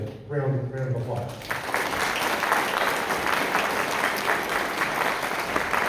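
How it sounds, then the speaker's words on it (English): A brief voice at the start gives way to steady, dense applause from a crowd at a political candidate forum, filling the rest of the clip at an even level. "Y'all give him a round of applause."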